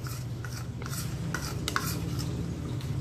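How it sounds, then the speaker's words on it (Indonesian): Butter and condensed milk are stirred together in a pot with a spoon, soft scraping and light clinks repeating over a low steady background. "Kita gaul rata"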